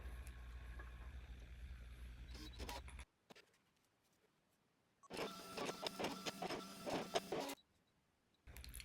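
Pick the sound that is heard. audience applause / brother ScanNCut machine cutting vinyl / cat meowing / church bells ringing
brother ScanNCut machine cutting vinyl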